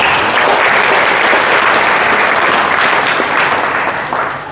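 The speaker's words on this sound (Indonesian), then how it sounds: "Aplaus untuk beliau." Loud, dense applause from an audience welcoming an Indonesian minister at a university faculty event, sustained without a break and tapering slightly at the end.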